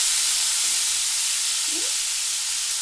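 Mustard seeds and cumin tempering in hot oil with chopped tomatoes and onions, a steady close sizzle and hiss with no talking.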